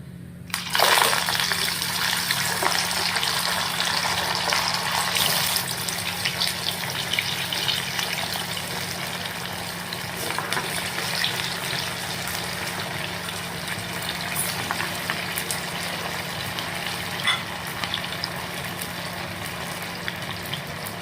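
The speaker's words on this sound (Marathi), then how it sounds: "आता ते तळायचे. तेल गरम झालेलं आहे. आता आपण याच्यामध्ये वडे सोडणार आहोत" Sabudana vadas frying in hot oil over medium heat, a dense, continuous sizzle and crackle that stays loud and even throughout, with no talking.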